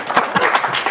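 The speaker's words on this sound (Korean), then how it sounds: "이럴 때는 박수가 좀 나오던데." A short burst of audience applause at a Buddhist public lecture on the middle way at Stanford University: dense, steady clapping from a hall crowd, fairly loud and close, lasting about a second with no voices over it.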